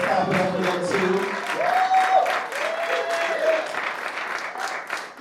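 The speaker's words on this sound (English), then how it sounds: "Let's clap it up for them too." An audience applauds steadily after a music performance at a live showcase session, sustained clapping that fills the whole stretch, with a voice heard briefly over it.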